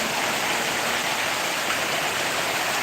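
Heavy monsoon-style rain beats down on a street with an even, rushing wash of noise, close and sustained, with no voices heard.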